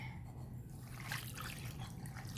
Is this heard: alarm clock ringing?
no